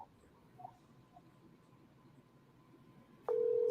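A telephone call being placed for a live fight show, starting quiet with faint tones, then a loud steady ringback tone cutting in abruptly and holding to the end.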